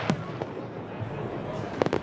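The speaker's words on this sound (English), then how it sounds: "The midnight fireworks," Midnight New Year's Eve fireworks over the Hobart waterfront, with sharp cracks and bursts popping at intervals against a rumbling crowd-filled background, several quick reports clustered near the end, heard at a distance.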